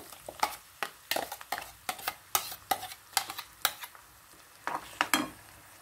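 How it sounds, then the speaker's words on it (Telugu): Ground gongura chutney is stirred in oil in a pan, with a spoon scraping and tapping in an uneven rhythm of distinct strokes, close and fairly quiet over a faint sizzle. "ఒక్కసారి అంతా కలిసేటట్టు కలుపుకోవాలి"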